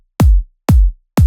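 Layered kick drum with an acoustic tail and a closed hi-hat sample, three punchy booming hits with short decaying tails, evenly spaced, loud and dry.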